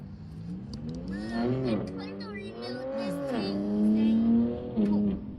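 A matte BMW accelerates hard along a street, its engine note rising through the gears with a brief dip between shifts, fairly close and moderately loud, while people talk nearby.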